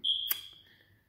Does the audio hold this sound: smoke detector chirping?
yes